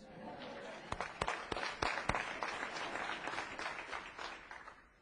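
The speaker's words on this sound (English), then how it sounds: "Stand up and give this man a round of applause." An audience claps in a meeting hall, a few sharp separate claps swelling into a brief round of applause that gradually fades, with some murmured voices underneath.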